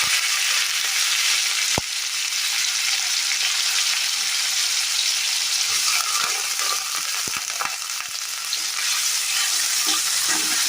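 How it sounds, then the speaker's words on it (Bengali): Chopped onion and whole cumin seeds frying in hot oil, a loud steady sizzle with occasional stirring clinks and scrapes close up, no voices. "আর তেলেতে গোটা জিরেটা দিয়ে দেওয়ার পর আমি একে একে দিয়ে দেবো এর মধ্যে কুচানো পেঁয়াজ।"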